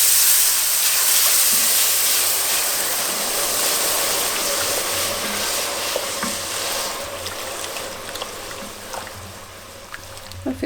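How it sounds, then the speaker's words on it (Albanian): Plain meat broth, unsalted and made only from water and meat, poured into a pot of Dibra-style paçe. It gives a steady close hiss and splash with stirring texture for about ten seconds, and no one speaks. "Tash këtu e qesim langun e mishit."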